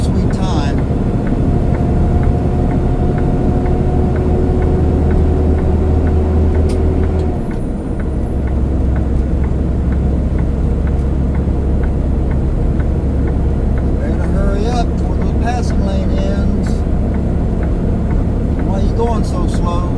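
A car rolls slowly past, its steady low engine drone rising and shifting near the middle. Voices talk over it throughout.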